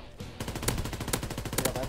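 Rapid automatic gunfire from a shooter video game rattles in a dense, loud, continuous stream of closely spaced shots, with a few sharper bursts standing out.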